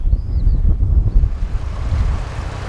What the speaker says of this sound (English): So I'm hoping the wind will die down.